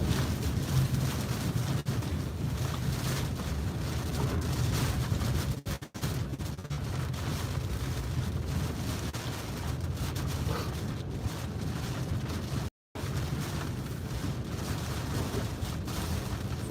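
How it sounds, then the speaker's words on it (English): Strong wind gusting along a shoreline during a damaging storm, a steady, loud broadband roar buffeting the microphone, with low rumbling gusts and two brief dropouts. "Wind's picking up."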